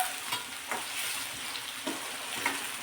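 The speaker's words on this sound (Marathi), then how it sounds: "आता हा टोमॅटो सुद्धा नरम होईपर्यंत चांगला असा परतून घ्यायचा आहे।" Chopped tomato softening in a pan over medium heat while being stirred, a steady close sizzle with soft scraping strokes of the spoon recurring every second or so.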